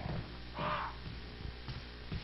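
Crows in Resident Evil REmake give a single loud, harsh caw near the start, followed by faint rustling and soft thuds.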